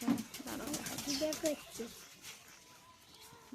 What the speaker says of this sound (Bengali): গেছিলাম ছাদে পায়রার ঘরে দেখো কত পায়রা আছে